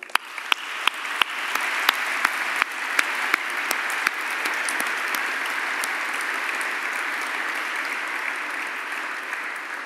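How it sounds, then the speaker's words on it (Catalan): Applause fills a graduation ceremony hall, a broad steady wash of many hands with a few sharp nearby claps standing out early on, holding strong throughout. "Un aplaudiment també per ells."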